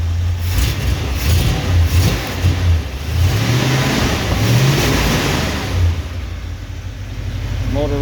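A 1975 Jeep CJ5, cold, starts up and revs with a few rising throttle blips, then settles into a steady rumbling run close by. Brief talk is heard in between.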